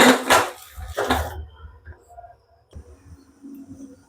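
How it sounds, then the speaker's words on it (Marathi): Metal clanks twice as a pressure cooker lid is set and fitted onto the cooker, followed by softer scraping and light knocks close by. "आता झाकण लावून घेते"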